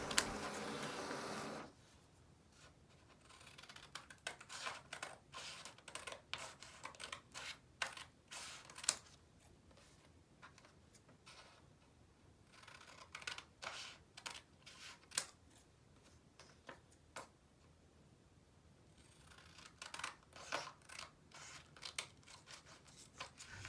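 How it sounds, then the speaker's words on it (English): Scissors snip repeatedly around the corners of a paper shipping label, a close, quiet series of crisp cuts in uneven bursts with short pauses between, alone without talk. "I cut around all the corners so that it could fit into the packaging slip."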